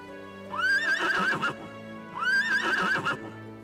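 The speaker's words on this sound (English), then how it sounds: "this is the asshole horse that gave us problems a while back." Two long whinnies from a horse in the video game Trails of Cold Steel II, each rising then trembling through a wavering call, heard close and clear over a steady game music bed.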